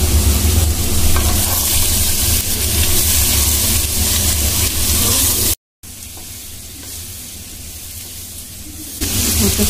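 Potatoes frying in a pan of oil for a Bengali aloo bhaji, a steady loud sizzle filling the clip, with a momentary dropout partway through and a slight swell near the end; no talking.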